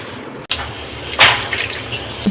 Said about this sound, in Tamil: லெமன் புளிஞ்சு ஊத்துறியா?